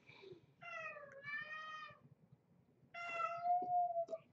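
A pet cat meowing indoors, two drawn-out, fairly loud meows close by, with quiet gaps between them.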